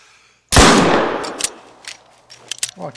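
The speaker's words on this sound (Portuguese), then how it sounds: "disparo efetuado, animal abatido" A single loud hunting rifle shot in theHunter video game on a Medved Taiga reserve, a sharp crack followed by a long decaying echo, then a few small clicks and a faint voice.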